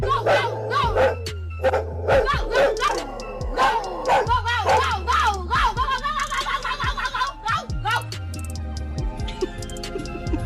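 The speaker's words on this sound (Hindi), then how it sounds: "जैसे ही डॉग भौंकने लगता है" A dog barks in sharp bursts amid music and lively background noise, with the barks loud and close.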